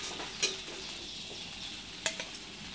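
Sago khichdi being stirred continuously in a pan, a soft steady sizzle with a couple of sharp spoon scrapes against the pan, fairly quiet and close.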